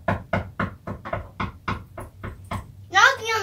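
Someone imitates knocking on a door by voice, a steady series of about eleven short, evenly spaced knock-like taps, followed by a brief burst of talk.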